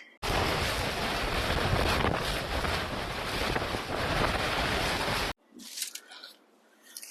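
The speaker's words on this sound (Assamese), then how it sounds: "বম বতাহ মাৰে ইয়াত, গোটেই কাপোৰ চাপোৰ উৰুৱাই লৈ যায়" Strong wind buffets the microphone in a loud, continuous roar for about five seconds, then cuts off abruptly, leaving quieter rustling and a few faint sounds.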